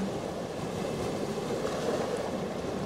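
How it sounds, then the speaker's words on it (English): Ocean waves wash along a shore and pull small rocks back down the slope, giving a steady, soft patter under a constant broadband surf wash that holds even and close throughout, with no voices. "You can hear the sound of small rocks being gently pulled down by the water, creating a soft"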